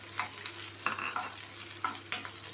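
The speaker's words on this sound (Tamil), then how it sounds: "வெங்காயம் நல்லா வதங்கிருச்சு" Onions sauté in hot oil with cinnamon, cardamom, cloves and curry leaves for egg fried rice. A soft sizzle runs under several light spatula scrapes and stirs in the pan.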